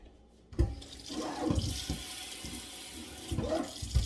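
Tap water runs while a head of cabbage is rinsed at a sink, with splashing bursts and a steady running flow over a few seconds.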